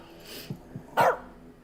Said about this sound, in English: You! Keep that dog quiet.